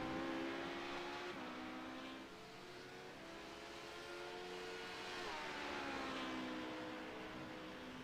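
Race car in a sports car series, the number 42 machine, running on the track at Miami Speedway during qualifying, engine note rising and falling as it shifts through gears, steady and prominent throughout with no talking.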